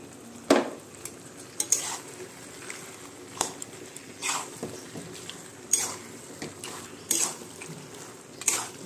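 Fish heads and fish oil frying in a pan, with a constant sizzle broken by repeated sharp clinks and scrapes of a utensil stirring against the metal, no talking.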